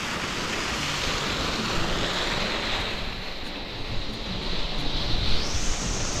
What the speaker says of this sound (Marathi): याच्यामध्ये असं पाणी टाकण्याचं काम चाललं